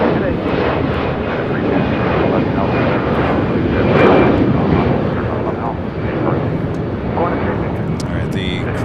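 An Airbus A380 taxis at LAX airport, turning onto a taxiway toward the north side; its engines give a steady, loud broadband roar with a slight swell midway, while a person talks over it throughout.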